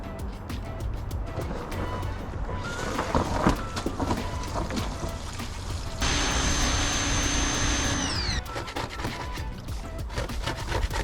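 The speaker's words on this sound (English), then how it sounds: "Finally got the dinghy up on land, got the pressure washer hooked up." A pressure washer spraying the hull of an inflatable dinghy stood on end on land; a steady broadband hiss that starts abruptly, with a harsher, louder stretch of close spraying midway and mechanical clatter around it.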